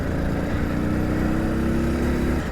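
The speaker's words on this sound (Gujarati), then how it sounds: "અહીંયા રેતી છે એટલે બાઇક બહુ કૂદકા મારે." A motorcycle ridden over sand near a temple on a rural route, its engine a steady, close mid-pitched drone that holds throughout without pauses or talk.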